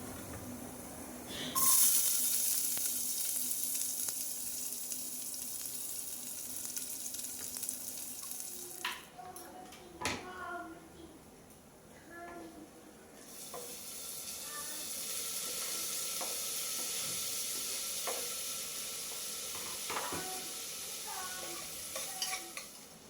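Chopped onion and tomato sizzle in oil in a pressure cooker, a steady frying hiss with occasional spoon stirs and clinks, moderately close, with no voices.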